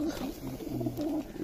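A golden pigeon with teddy eyes coos in low, repeated throaty notes, close by, over a steady background hum.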